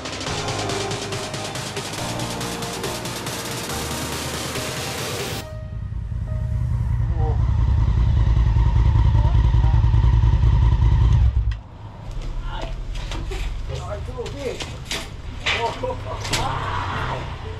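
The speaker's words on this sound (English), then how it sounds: "explore Bangkok by motorbike" A big motorbike rides through Bangkok. After several seconds of music, a deep, loud engine rumble holds steady for about six seconds, then drops to lighter engine and street clatter.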